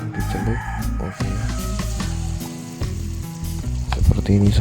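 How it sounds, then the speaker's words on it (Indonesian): Tempe mendoan slices dipped in batter sizzle and crackle as they fry in a pan of oil, a steady close sizzle that stays loud throughout with a few sharper pops near the end, with musical tones running underneath. "Langsung kita goreng saja."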